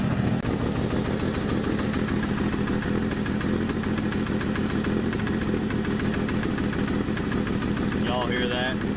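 The engine of a 1984 Dodge RAM D100 pickup truck runs steadily and loudly up close, a continuous rough rumble with a rhythmic knock that stays constant throughout.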